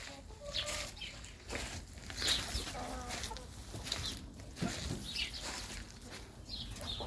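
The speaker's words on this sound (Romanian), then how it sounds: "Găinile New Hampshire." New Hampshire hens on a farm cluck and murmur softly in repeated short bursts, a few sharper squawks breaking through, with a faint background hum and no talking.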